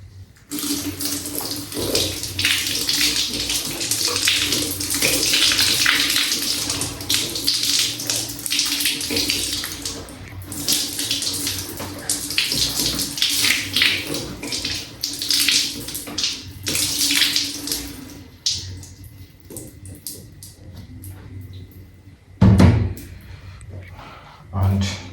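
Water runs steadily while rinsing product out of hair, a continuous close splashing stream for about eighteen seconds that then stops, leaving quieter handling sounds and a brief thump, with a voice speaking over it.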